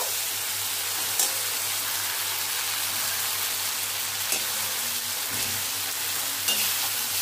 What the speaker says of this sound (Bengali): এবার পেস্ট করা কাজু, টমেটো, চারমগজের মিশ্রণটা দিয়ে দেব।